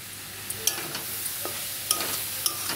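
Kalmi greens (water spinach) fry in a pan as sugar is stirred in, a soft steady sizzle punctuated by several crisp spatula clicks and scrapes against the pan, close up, with no talking.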